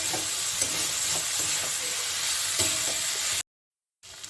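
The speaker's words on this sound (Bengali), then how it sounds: "সবসময় মশলাটা ভাজার চেষ্টা করবো" Spice masala fries and sizzles in a pan for a young jackfruit curry, a steady close hiss broken by stirring scrapes, then cutting out briefly before resuming.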